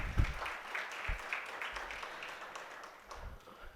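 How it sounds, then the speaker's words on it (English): Audience clapping at a youth real estate forum, fairly quiet and diffuse, a scattered patter that carries on steadily across the room for a few seconds with a few louder low thumps near the microphone. "Please have a clap for you all to come here for the first time"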